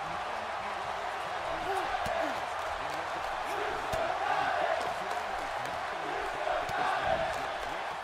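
Arena crowd noise from a WWE 2K18 wrestling match, a steady roar of cheering that swells at a few points, with a voice talking over it.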